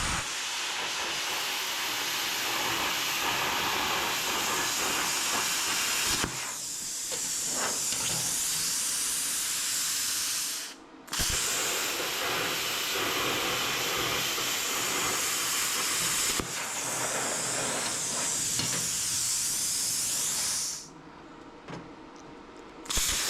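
Grinder or cutting wheel cutting straight lines in steel for a custom-fabricated brake pedal assembly, heard as long, loud, continuous hissing passes with brief pauses between cuts, close by and without speech.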